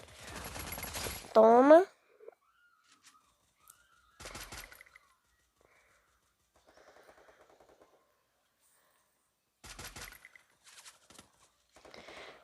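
Short bursts of rapid automatic gunfire from a weapon in the video game Free Fire are separated by quiet gaps, with a brief sweeping tone and someone speaking Portuguese between shots.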